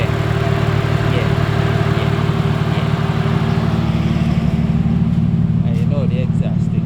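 An Audi C5 with a 3.0 engine idles steadily, a constant low exhaust hum with even engine pulses, while people talk nearby over it.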